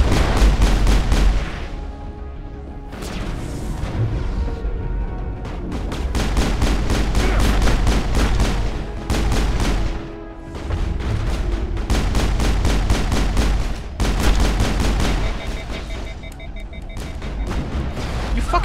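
Rapid assault rifle gunfire in the video game Mass Effect, loud bursts of repeated shots with short pauses between volleys, heavy and close.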